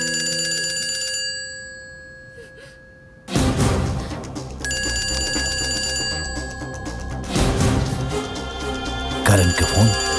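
A telephone rings in bursts of bright, repeating electronic tones, interrupted by loud dramatic music swells and thumps from a Bhojpuri film scene.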